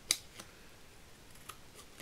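Scissors cut paper while someone trims pieces for a handmade advent calendar: one crisp snip near the start, then a few fainter snips spread out and close by, with no talk.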